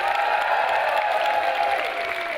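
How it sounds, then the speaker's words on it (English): A large audience breaks into loud applause with cheering for a welcomed guest at a live event, a thick, continuous wash of clapping and crowd noise that holds steady throughout, with a faint sustained tone running underneath. "please, let's give a warm round of applause for Steve Jobs!"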